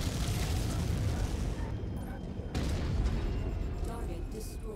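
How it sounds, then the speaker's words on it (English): Dense, roaring explosions in MechWarrior 5: Mercenaries fill the clip, one heavy blast rolling into the next with a continuous rumbling wash and no gaps. "The explosions in this game rock."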